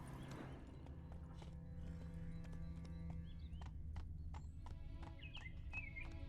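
Geralt's horse Roach gallops in The Witcher 3: Wild Hunt (modded), hooves clip-clopping in a quick steady rhythm with a couple of whinnies, faint birdsong chirping over a soft outdoor ambience.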